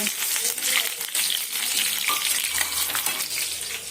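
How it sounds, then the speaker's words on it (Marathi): Mustard seeds, cumin, garlic and chili crackling and sizzling in hot oil, a dense close-up fry with popping seeds and clinking, stirring sounds, loud and continuous. "तेल गरम झालंय त्याच्यामध्ये मी मोहरी टाकते जिरे टाकते त्याच्यानंतर मी लसूण टाकणार आहे"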